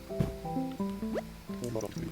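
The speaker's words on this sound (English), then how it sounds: "Pour you another cup." Cartoon coffee pouring in Animal Crossing: New Horizons, a short liquid fill with a bright rising gurgle and drips, set against steady tonal game music with no talking.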